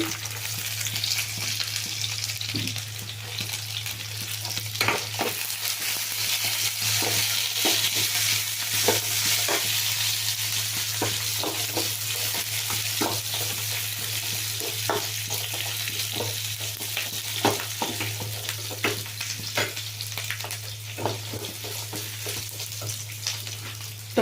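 Fennel, cardamom, cinnamon, cloves, chilli and garlic frying in hot oil for an aubergine gravy, a continuous close sizzle with intermittent stirring clatters, no talk.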